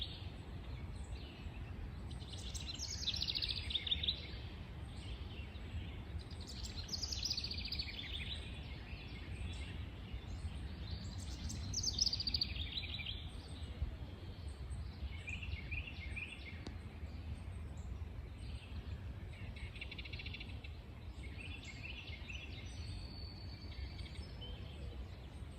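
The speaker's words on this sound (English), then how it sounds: "You can hear the bird song here." Birds sing in repeated bright chirping phrases along a path by a dry creek, fairly distant over a steady low outdoor rumble and faint insect hiss.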